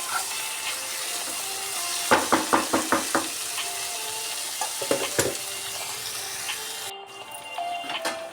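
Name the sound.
bitter gourd frying in oil, being stirred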